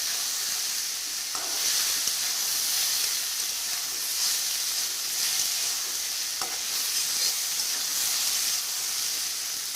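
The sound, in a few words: stirring fried fish with water lily stems in a pan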